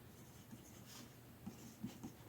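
A pen scratches out a label for a striped Italian zucchini seedling, faint soft strokes with a few slightly firmer marks, close and quiet.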